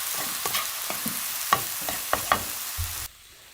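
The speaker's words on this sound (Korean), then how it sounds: "이렇게 쭉 하고 부드럽게 볶아져요." Sliced shiitake mushrooms fry softly in sesame oil, with a faint sizzle and a series of sharp scraping stirs and clicks of a utensil against the pan before the sound cuts off.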